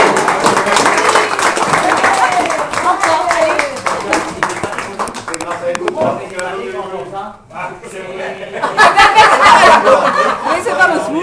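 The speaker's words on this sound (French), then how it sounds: "On peut t'applaudir." A small group of touring motorcyclists applauds one of their members: bursts of hand clapping mixed with chuckles and chatter, fading briefly midway then swelling again, with people talking throughout.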